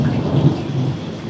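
A low rumble of thunder rolls through a rainstorm, brief and fairly loud, over a hiss of rain.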